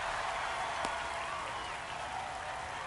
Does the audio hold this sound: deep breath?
no